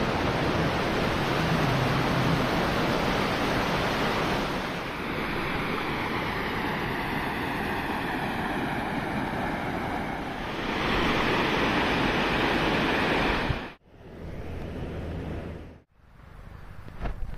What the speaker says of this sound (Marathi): ते बघा रस्त्याच्या बाजूला धबधबा आहे